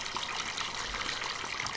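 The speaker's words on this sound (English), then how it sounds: "you wouldn't really expect it to just be spewing water out the top pipe into nowhere" A water tower in Farming Simulator 17 spews water out of its top pipe, a constant broad gushing rush with no pauses, heard close and alone.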